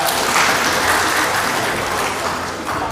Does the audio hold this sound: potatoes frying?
no